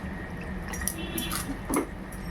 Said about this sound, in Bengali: দিয়ে দিলাম একটু জল